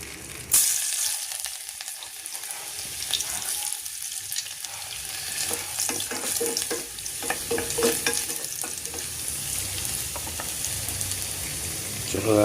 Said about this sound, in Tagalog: So igigisa lang natin itong ating mga rekado mga idol. Unahin lang natin yung bawang.